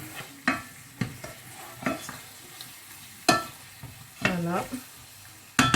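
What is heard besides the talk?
meat frying with onions in a pan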